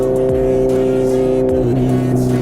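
Kawasaki Ninja 1000SX motorcycle at speed, a loud steady engine drone with strong harmonic tones and constant wind roar, the pitch shifting slightly partway through.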